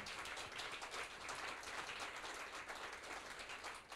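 Faint, steady round of audience applause at the Éco-Tremplin Radio Mont Blanc awards ceremony, a dense wash of many hands clapping continuously for about four seconds.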